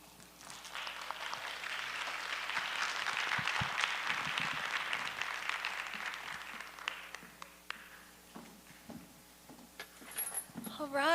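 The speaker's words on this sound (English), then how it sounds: "let's give another round of applause to all of our panelists and artists" Audience applause for panelists and artists at an art event, a steady dense patter of many hands that gradually thins and fades out, with a voice and some stray sounds near the end.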